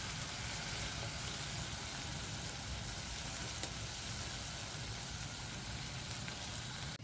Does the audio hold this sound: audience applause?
no